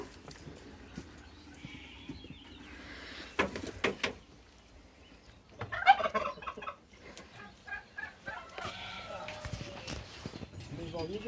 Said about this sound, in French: je vais ouvrir aux dindes